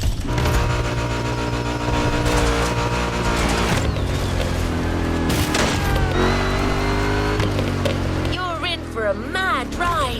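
SSV off-road racing in The Crew Motorfest, a continuous loud engine drone with shifting tones and clattering bursts under a steady music bed, with a voice talking throughout.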